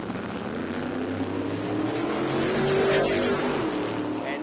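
An ex-nitro funny car chassis with a four-cylinder engine makes a drag racing run at a street performance jamboree, its engine a loud buzzing drone that rises in pitch as the car accelerates, heard from trackside.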